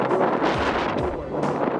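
Wind buffets the microphone in low, rumbling gusts at an outdoor groundbreaking ceremony, with a steady blustery roar throughout.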